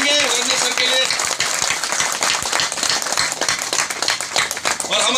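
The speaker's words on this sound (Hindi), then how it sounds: "सर प्लीज ताली बजाएंगे रंजन सर के लिए" Audience clapping and applause at a gathering in Assam, a dense steady patter of many hands sustained throughout, with faint voices underneath.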